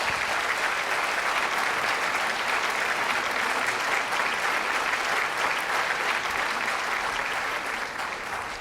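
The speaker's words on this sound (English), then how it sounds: "A big round of applause." Sustained applause from an audience at the ISLE Awards 2022 ceremony, dense, even and loud throughout with no break.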